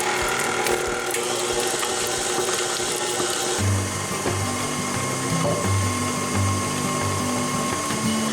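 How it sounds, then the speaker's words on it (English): An electric mixer beats a block of cream cheese and a stick of butter together for frosting, with a loud, close, gritty whir and rattle that drops to a lower, lumpy churning hum partway through; no voices. "So we're putting in the block of cream cheese and a stick of butter. We'll go ahead and mix those together."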